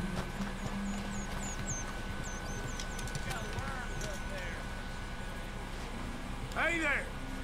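Horse in Red Dead Redemption 2: faint hoof clip-clops and a short whinny near the end, set against outdoor game ambience with birdsong and talk over it.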